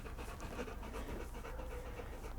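A dog pants steadily and close by, quick rhythmic breaths filling the short stretch without any talk over it.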